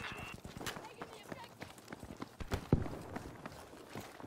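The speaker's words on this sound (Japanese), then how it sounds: "なんか足音しません" Footsteps in the video game Battlefield V, a run of quick, fairly faint thudding steps in uneven rhythm, with voices talking over them.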